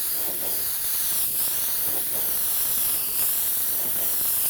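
Steady broadband hiss of an aerosol spray can laying down black candy colour paint, a continuous close spray with slight swells in strength and no talking.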